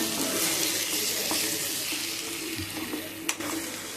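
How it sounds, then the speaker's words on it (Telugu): Eggs are stirred into a tamarind leaf curry in a pan, giving a continuous close sizzle with soft scraping and stirring throughout. "ఈ త్రీ ఎగ్స్ వేసుకున్న తర్వాత కొంచెం కలవ పెట్టుకోవాలండి"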